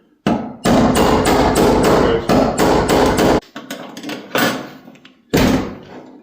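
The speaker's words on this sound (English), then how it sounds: "we're going to get this excessively large punch and excessively large hammer, loosen her up" An oversized hammer strikes a large punch on a 1985 IROC-Z clone car part: a run of loud, rapid metallic blows, then a pause and a few more separate heavy hits.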